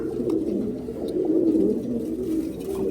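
Close, continuous cooing from 72-strain pigeons in a home loft, soft throaty calls layered without a break.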